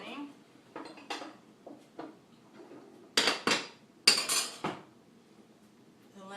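Sterilized glass canning jars clinking and knocking against pots and metal while being lifted out, a series of sharp ringing clatters, some close and bright, with quieter taps between them.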